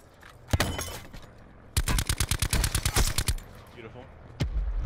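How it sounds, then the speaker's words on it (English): Gunfire in a first-person shooter: an isolated shot, then a rapid burst of about a dozen sharp automatic rounds, followed by another lone shot and a rumble, fairly close and loud. "Getting shot from the left side."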